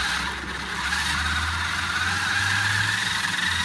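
A roughly 20-year-old Xmods Evo Hummer H2 RC car runs at full throttle while trying to climb, giving a steady, close electric motor whine over a low drivetrain hum.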